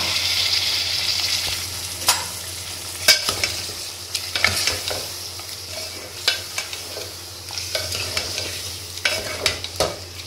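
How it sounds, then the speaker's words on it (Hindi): Masala for lauki gosht sizzles steadily in a pan over low-medium heat while a spoon scrapes and stirs it in irregular, close strokes, with no voices. "ताकि थोड़ा मसाला भून जाए"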